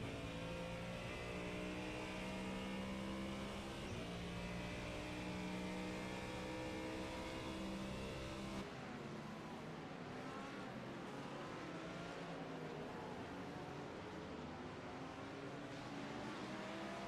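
GT3 race cars, including Lamborghini, Ferrari and Ford, in a sim racing game: a continuous layered engine drone with rising and falling revs as several cars run close together, steady and without talk.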